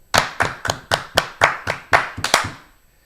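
Ten sharp hand claps in a steady, evenly spaced rhythm, close and loud, each crack ringing out briefly with no talking in between.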